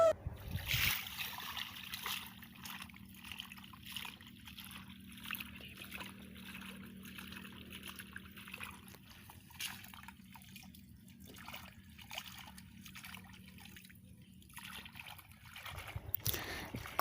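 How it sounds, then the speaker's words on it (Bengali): Green banana peels being rinsed in pond water, with soft trickling, dribbling and light splashing over a steady low hum, fairly quiet and continuous with no talk. "কলার ছালগুলো ধোয়ার জন্য পুকুরে যাব।"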